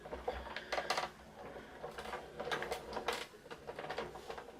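Die cut machine rolling a greeting card through, a quiet run of soft mechanical clicks, creaks and rubbing bursts in an uneven rhythm, close but faint.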